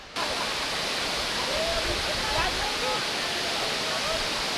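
A waterfall at Doi Inthanon rushes in a steady, dense roar of falling water, constant and loud throughout, with faint bird calls threading through the wash of sound.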